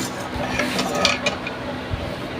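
A spoon stirs kutsinta batter in a bowl or pot, giving soft scraping swirls and light metallic clinks against the container, close and continuous, with faint voices in the background.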